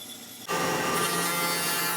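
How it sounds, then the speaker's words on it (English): A bandsaw cuts wooden double hooks, its steady broadband whine starting abruptly after a quieter half-second and holding loud and close for the remainder. "Cut them out on the bandsaw."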